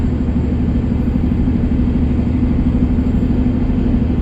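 Coach bus engine, a GM Series 60 with a belt-driven supercharger and turbo in an MCA 14.5 m coach, a steady, dense, low rumbling drone heard from inside, loud and unchanging throughout.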